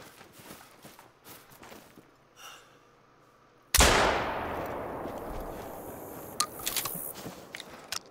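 A single loud shotgun blast fires in the hunting game Hunter Call of the Wild, with a sharp crack and a long decaying tail over quiet footsteps and rustling before it.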